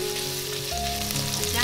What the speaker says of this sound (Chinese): 我们举热锅，把牛腩放进来炒干水分